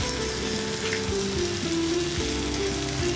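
Half a spoon each of asafoetida and turmeric powder frying in oil for a brinjal and raw mango gojju, a loud continuous close sizzle with light stirring.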